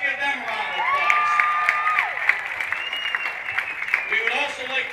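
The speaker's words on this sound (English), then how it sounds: "Let's give them a round of applause." A crowd at a Geneva versus Lakeside football game applauds the homecoming queen and court, with cheers, whoops and shouting mixed into steady clapping.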